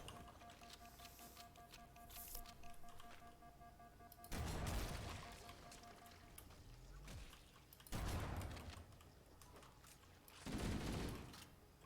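Gunfire in the video game Halo Anniversary, with three loud bursts of rapid shots spaced a few seconds apart over a steady background hum, plus softer scattered firing in between.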